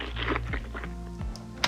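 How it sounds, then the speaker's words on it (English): Chewing sound effect of a man eating, with wet, squelchy bites and repeated low thunks in a steady chewing rhythm, close and fairly quiet, lasting under two seconds. "This is the man chewing."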